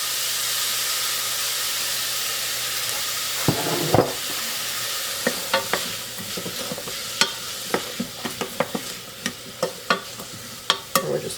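Onion and celery with a pinch of salt sizzle steadily in a pot, with a constant frying hiss throughout, then a run of spoon scrapes and stirring knocks in the second half, close up, no talking.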